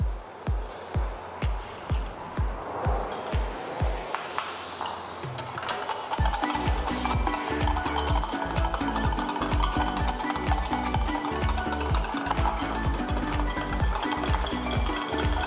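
Saffron aioli being whisked in a bowl as olive oil goes in a tablespoon at a time: quick rhythmic whisk strokes at first, then a dense continuous clatter of fast beating, close and fairly loud, with no talking.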